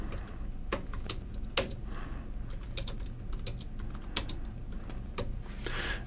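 Keystrokes on a computer keyboard while entering button text in the Unity editor: irregular, crisp clicks in short flurries with brief pauses, close and clear, no talking.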